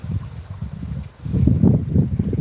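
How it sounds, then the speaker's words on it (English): Blustery wind buffeting the microphone in low rumbling gusts, briefly easing before surging again stronger. "so as you can see, she's windy"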